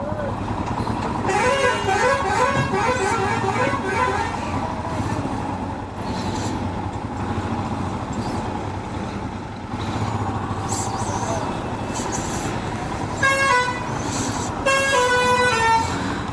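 Heavy road traffic on a Maharashtra highway, a steady engine roar punctuated by several loud, sustained horn blasts from nearby vehicles, with voices under the din.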